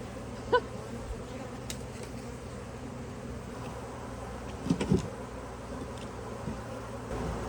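Honeybees buzz around an open hive during an inspection, a faint steady swarm hum close by with a few brief soft knocks.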